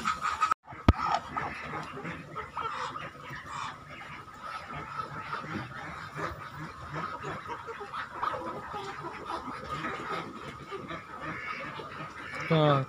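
Dense, continuous quacking and clucking from a crowded flock of farmed ducks, close and fairly loud throughout, with a voice occasionally heard among the birds.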